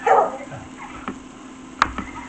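Two dogs squabble over bones indoors, a big dog and a little one, with a short whimpering growl at the start followed by a few sharp yips and scuffling sounds, close by.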